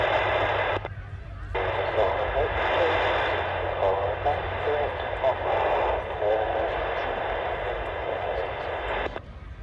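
F-16 jets of the US Air Force Thunderbirds roar past during a Chicago air show, a loud, sustained engine rumble that drops out briefly near the start and then holds steady under a public-address announcer's voice.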